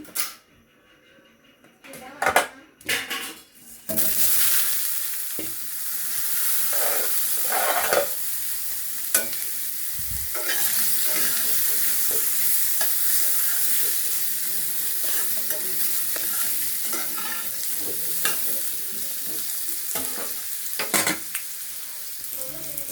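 Potatoes are tipped into hot oil in a new frying pan and stirred, starting with a few clattering knocks before a continuous loud sizzle takes over, with repeated scraping stirs and brief spoken remarks over it.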